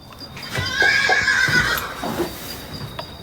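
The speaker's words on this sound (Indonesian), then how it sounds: "Gue dengar suara kuda." A horse whinnies loudly and fairly close at night, one drawn-out neigh rising and trailing off, with faint hoof clops and rustling around it; a voice speaks briefly.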